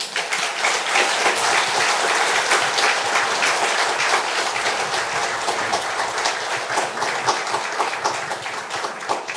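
An audience claps in welcome as a speaker comes forward at a church lecture, a dense, sustained round of applause that stays loud and even throughout.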